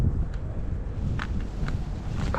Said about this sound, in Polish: Wiatr będzie słychać.